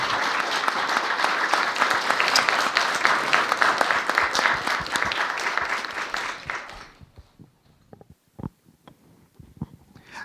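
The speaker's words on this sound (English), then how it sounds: "Can we have one more round of applause for our panelists?" Audience at a Black History Month panel at Royal Roads University applauding the panelists, a full, dense round of clapping that stops abruptly, leaving a few scattered claps and small sounds.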